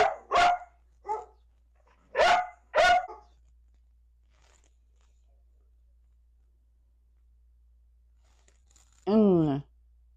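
A dog gives a few sharp barks in short bursts, close and clear against near silence, followed later by a longer wavering yelp or howl-like cry.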